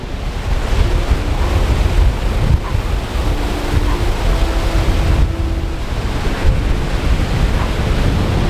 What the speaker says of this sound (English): this wind should really just drop right off down to almost nothing as the storm pulls away